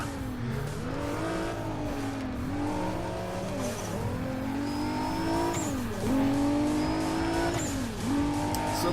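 Racing cars roar through a lap in Need for Speed ProStreet, with a Supra among them, engines revving up and down in repeated gear-shift sweeps, with brief tire squeals, loud and continuous.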